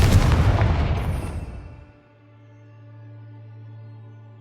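A Confringo explosive spell goes off in Hogwarts Legacy on PS5 as one loud, booming blast that fades over about two seconds into a low, sustained hum.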